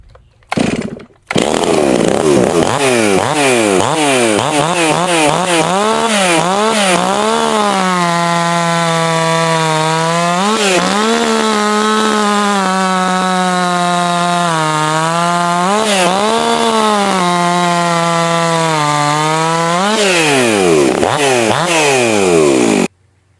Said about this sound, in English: what we have, still MS362, ported cylinder head